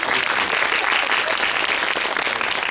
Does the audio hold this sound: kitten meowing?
no